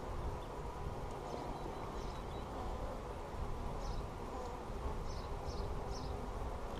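Honey bees at a bee yard hum in a steady, low buzzing drone, faint and continuous, with a few brief higher whines from individual bees passing nearby.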